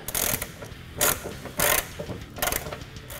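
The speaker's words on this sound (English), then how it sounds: "Tighten the bolt end screw with a 4mm hex key and a 10mm socket." Hex key and 10mm socket ratchet tightening a bolt end screw on a Rugged Ridge adjustable hood catch for a 2007–2018 Jeep Wrangler, with bursts of rapid clicking ratchet strokes, close and crisp, separated by brief pauses.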